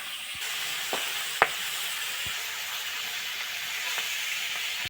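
Mirka fish seasoned with salt and spices fries in hot oil, a continuous close sizzle with a few brief sharp pops and clicks from the pan, no talking over it.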